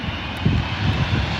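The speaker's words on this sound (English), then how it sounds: "Emirates A380." Engines of an Emirates Airbus A380 at Birmingham airport, a steady broadband jet roar with a low rumbling swell, heard at some distance, continuous and fairly loud with no voices.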